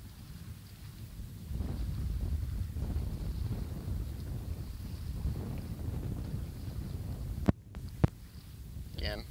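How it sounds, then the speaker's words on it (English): Steady wind gusts buffet the microphone outdoors during fishing line tying, a constant low rumble throughout with a couple of brief sharp knocks near the end. "Again, hard to do in the wind."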